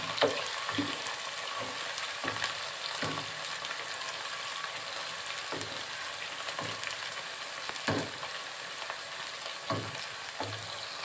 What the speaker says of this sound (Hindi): अब हम इसमें प्याज को डाल लेते हैं और चम्मच की मदद से अच्छी तरह मिक्स कर लेते हैं